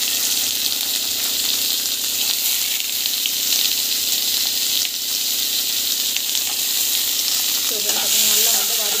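Onion, mustard seeds, cumin and chili sauté in hot oil with a loud, dense, continuous sizzle, nearby and steady, with a faint stirring or bubbling texture toward the end and no speech.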